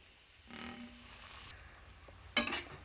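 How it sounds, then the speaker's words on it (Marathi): Gara is dry-roasted in a kadhai for jaggery lapshi, with a soft sizzle and a few scraping stirs, ending in a brief louder scrape, close and quiet without any talk. "आता ह्या कढईमध्ये हा गरा चांगला भाजून घेऊया"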